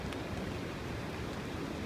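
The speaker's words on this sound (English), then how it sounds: "The wind and rain is diabolical." Wind and rain buffet a winter campsite, a steady broadband roar of gusts and rainfall filling the short stretch without a break, no voices.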